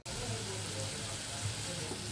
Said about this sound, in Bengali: এটা তেলে একটু ভাজা ভাজা করে নিলাম, সামান্য নাড়াচাড়া করলাম।